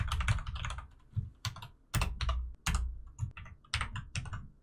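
Close, fairly quiet clatter of fingers typing a sentence on a computer keyboard, key presses coming in quick uneven bursts with short pauses between words.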